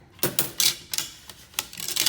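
Wire cutters snip through decorative mega-wire while a contemporary circle bridal bouquet is being shaped, giving a quick run of sharp, close metallic clicks and cuts with no talking.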